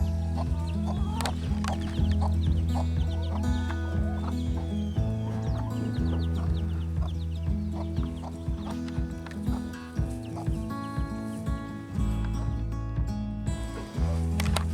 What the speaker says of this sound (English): She's just a little pet chicken.